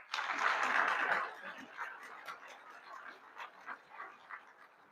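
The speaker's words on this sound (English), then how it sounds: "Let's give yourselves a round of applause." Applause from a room of attendees at a children's advocacy awards breakfast, a burst of clapping that fades quickly into scattered, sparse claps and faint murmurs.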